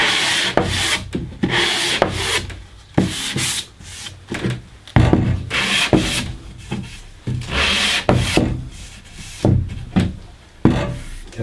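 A plain wooden panel is hand sanded with a light rub over, giving loud, close, rhythmic scratchy strokes that repeat steadily back and forth and then turn briefly toward the edges.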